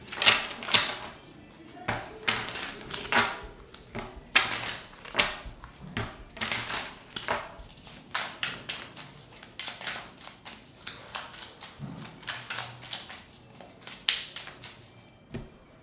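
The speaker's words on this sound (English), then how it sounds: "Shuffle for Aries" Tarot cards are shuffled by hand in a steady series of soft riffling and slapping bursts, close and fairly quiet, with no talk over them.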